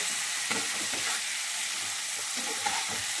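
Fried chicken, marinated with lemon juice, salt and turmeric, hits a pan of hot oil and is stir-fried, giving a steady close sizzle with soft scraping stirring strokes and no talk.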